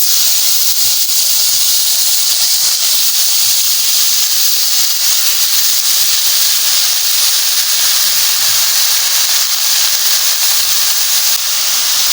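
Fish dropped into hot mustard oil for a bottle gourd and prawn dish: a loud, steady, close hissing sizzle throughout with no pauses or speech.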